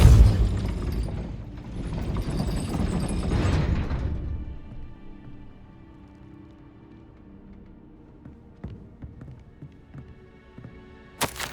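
Depulso spell cast in Hogwarts Legacy to push a gate: a loud, rumbling blast for about four seconds, fading into quiet mechanical clanks and ticks, with a sharp knock at the end.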